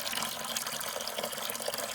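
Water swishes and sloshes steadily inside a container as it is swirled to rinse pulp from wet seeds, a continuous close liquid churning with no talk.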